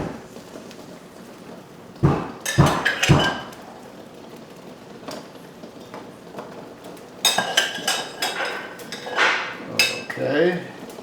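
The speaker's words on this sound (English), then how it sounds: "But now using this spoon, I can nicely" Eggs are lowered one at a time into a metal pot with a spoon for Turkish eggs, making a few sharp metallic clinks and knocks in two clusters against a quiet room background.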